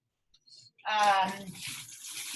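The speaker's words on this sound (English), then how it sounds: "I'm just going to throw it right in the boiling water." Dry pasta dropped into a pot of boiling water, a short splashy bubbling surge after a brief rattle, close and fairly quiet.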